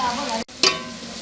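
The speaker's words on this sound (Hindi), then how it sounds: "घी के अंदर हम जो अरबी फ्राई करेंगे, अरबी डाल देंगे और इसको लाइट ब्राउन होने तक हम फ्राई करेंगे" Taro root (arbi) frying in hot ghee, a dense close sizzle with a brief stir or break partway through.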